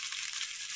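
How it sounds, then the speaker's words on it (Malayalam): Prawns fry in a pan on a lowered flame, giving a steady, close hiss of oil crackling throughout the short moment with no voices. "മീൻ ചേമീനാണേ, അത് കുറച്ചൊന്ന് പൊരിക്കാനും കൂടെ ആണ്"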